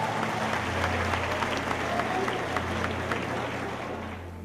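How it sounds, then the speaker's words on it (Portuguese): Church congregation applauding at a revival service, a dense steady wash of clapping with crowd noise and a low sustained hum beneath, loud and continuous throughout. "tomem o seu assento aplaudindo a Jesus porque Ele é bom"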